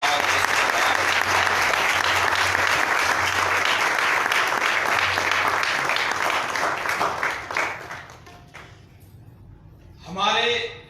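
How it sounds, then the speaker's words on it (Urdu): A church congregation at an Easter Mass applauds loudly, a thick sustained burst of clapping that fades out after about eight seconds, followed by a brief voice. "خداوند کے نام کی زوردار تالی بجائے"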